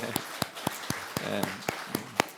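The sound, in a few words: church congregation applauding to welcome a deaconess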